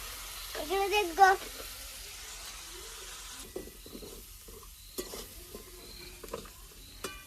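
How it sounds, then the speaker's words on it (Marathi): Drumstick (shevga) vegetable curry sizzles in a pot over a wood-fire chulha as a spoon stirs and scrapes. A voice rises briefly at first, then quieter talk follows over the soft sizzle. "मस्त शेवग्याची भाजी चालू आहे"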